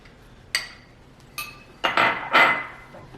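A metal spoon clinks and scrapes against a bowl while scooping out warmed, liquid honey, with four sharp contacts that grow longer and louder toward the end, close up with no talking.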